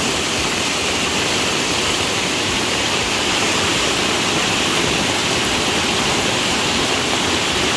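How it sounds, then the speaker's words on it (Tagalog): Swollen flood water rushes strongly past where bridges have been swept away, a continuous, loud, dense roar with no breaks, heard close by and alone. "Yung alon kanina, hindi pa ganyan kalakas yung alon kanina"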